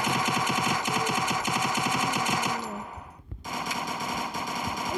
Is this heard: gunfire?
yes